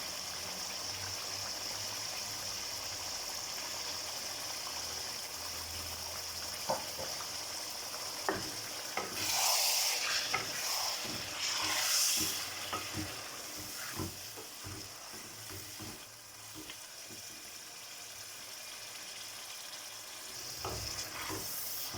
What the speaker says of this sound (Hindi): इसे में मैं डालने लगी हूँ ग्राइंड किए हुए टमाटर